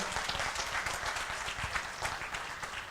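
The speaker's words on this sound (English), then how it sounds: "Round of applause, ladies and gentlemen." A crowd at a business forum claps continuously, a dense, even wash of applause with no voices standing out.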